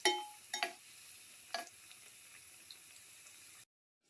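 Black pepper fish tamarind chickpea fritters fry quietly in oil with a faint, steady sizzle. A few sharp clinks of a utensil turning them stand out near the start, then the sound cuts off.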